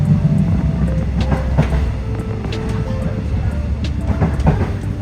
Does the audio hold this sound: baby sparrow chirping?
no